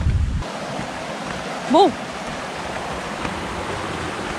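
A river flowing as steady broadband rushing water throughout, with a short voiced sound partway through and a brief word at the start.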